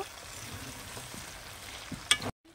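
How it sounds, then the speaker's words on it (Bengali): A spatula stirs chalta pickle in a pan, giving soft scraping strokes over a quiet sizzle, with a sharper knock near the end before it cuts to silence. "এবার খুন্তি দিয়ে ভালো করে আমি নাড়িয়ে নিচ্ছি।"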